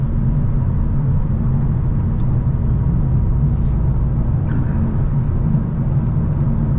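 A Hyundai Elantra N sport sedan on the road: its engine and exhaust make a steady, fairly loud low drone with road rumble, holding constant throughout and with no one talking.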